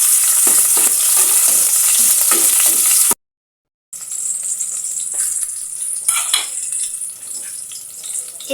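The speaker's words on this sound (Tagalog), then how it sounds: "Tapos kapag uminit na yung mantika, lagay na natin yung sibuyas." Chopped onion and garlic sizzle loudly in hot oil in a pan for papaitan, a bright crackling hiss broken by a short silent cut, then continuing with occasional stirring scrapes.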